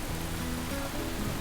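Rain pours down in a dense, constant wash of hiss, loud and close for a brief moment with no one speaking.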